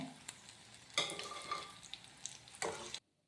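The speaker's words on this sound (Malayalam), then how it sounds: "ഇനി ഒരു പാത്രത്തിലേക്ക് കോരി എടുക്കാവേ" Kerala-style spicy beef fry scooped out of a hot pan into a dish, sizzling steadily with scraping ladle strokes and a few sharper metallic scrapes before cutting off abruptly.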